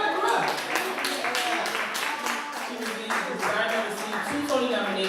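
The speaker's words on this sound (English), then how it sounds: "So let's clap her up." Audience clapping and applause at a youth event, a steady wash of many hands clapping close by, with talk running underneath.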